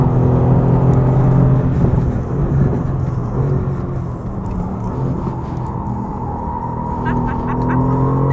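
A Mercedes AMG GTR road car runs flat out on the Nürburgring Nordschleife over the humps, heard from inside as a loud, sustained engine roar with wind and road rumble, pitch shifting slightly with speed.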